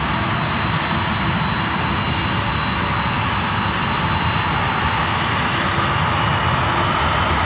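Airliner jet engines roar in a steady, loud, broadband rush with a thin high whine on top as the plane starts moving, with no talking.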